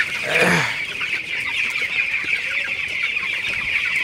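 Twenty-day-old broiler chickens on a farm in hot weather cluck in a steady, dense chorus, with one louder call standing out near the start and no voices.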